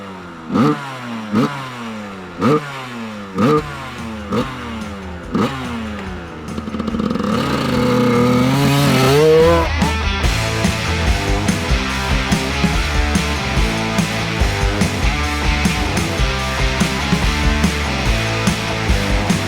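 A Suzuki RM85 motocross bike close by, first a string of sharp, evenly spaced revs, then a loud sustained high-revving buzz with rapid pulsing, no voices.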